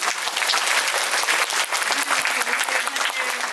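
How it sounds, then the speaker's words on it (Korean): A film festival audience applauds a director in a packed hall, with steady, dense clapping from many hands that holds at full strength throughout. "네, 큰 박수 부탁드립니다."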